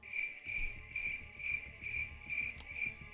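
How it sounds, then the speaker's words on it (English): Crickets chirp outdoors in a steady, fast rhythm of evenly spaced pulses, moderately close and with no voices over them. "There's the crickets."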